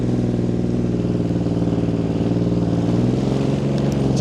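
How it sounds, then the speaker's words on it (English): A 1980 Honda CBX1000 motorcycle fitted with a 6x6 exhaust runs steadily and loudly at close range, its engine holding an even, throaty drone for the whole stretch with no voices. "it's quite loud with the 6x6 exhaust system"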